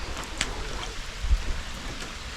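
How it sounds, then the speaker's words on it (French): Steady light rain falls outdoors on the coast of the Philippines, a soft continuous patter with faint drips and a low rumble, no voices. "Bon, il pleut."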